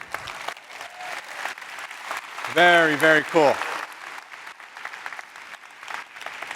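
A large keynote audience at a corporate talent conference claps at a moderate, steady level. Someone speaks briefly in the middle, then the applause carries on beneath.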